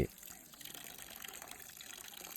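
Tap water runs steadily while freshly caught shrimp are washed clean, making a continuous close splashing and gushing stream of moderate loudness.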